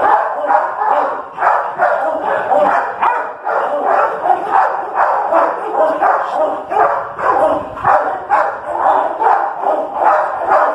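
A fearful pit bull barks repeatedly and loudly at close range at a kennel, rapid yelping barks in a steady rhythm, mixed with whimpers.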